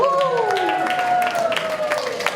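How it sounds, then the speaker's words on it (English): Theater audience applause at a cabaret show: scattered clapping starts up underneath someone talking loudly nearby. "Everybody give a hand for applause."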